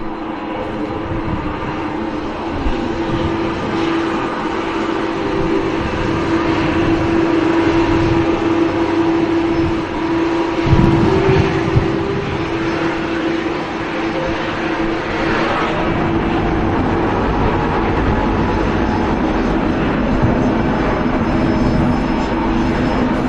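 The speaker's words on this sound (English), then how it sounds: "Enjoy this Singapore departure, folks." A Singapore Airlines jet airliner departs Manchester Airport with a loud, sustained engine roar and a strong low rumble that builds and holds throughout, close and powerful, with no voices over it.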